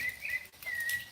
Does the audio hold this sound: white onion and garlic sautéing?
no